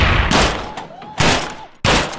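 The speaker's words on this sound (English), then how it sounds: "You can one shot a barrel and it'll explode." Gunfire in the VR shooting game Gun Club VR hits an explosive barrel, giving three loud, broadband blasts at roughly half-second gaps, each ringing out briefly.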